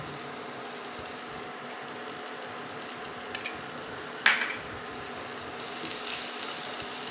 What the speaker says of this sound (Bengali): এবারে ভেজে নেবো।